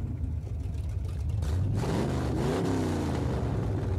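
A car engine in a video game hums steadily, then builds into a rising, revving whine with a sweeping pitch, close and fairly loud, with no talking.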